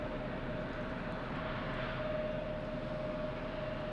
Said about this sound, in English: So excited to get a Spirit plane coming in finally.